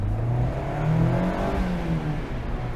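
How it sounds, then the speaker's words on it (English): A 2024 Mazda MX-5 Miata ND3 engine revs through a downshift while driving in a historic downtown area, a steady mid-pitched drone rising and falling slightly under continuous road and wind noise. "We're gonna try to downshift here."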